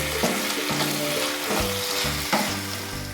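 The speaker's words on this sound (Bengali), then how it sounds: "খুব ভালো করে নাড়াচাড়া করছি এটাই ভাজা ভাজা" Ingredients for Bengali murighonto fry in a pan while being stirred, giving a continuous loud sizzle broken by rhythmic scraping strokes of the spatula about every second.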